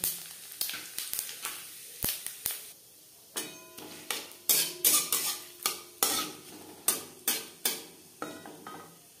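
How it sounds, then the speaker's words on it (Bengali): Two dried red chillies, two bay leaves and whole cumin fry in four spoons of hot refined oil. Repeated sharp spatula knocks and scrapes against the pan ring out over a light, steady sizzle. "4 চামচ রিফাইন্ড অয়েল গরম করে নেওয়ার পর ফোড়নে দিয়ে দিলাম 2 শুকনো লঙ্কা, 2 তেজপাতা"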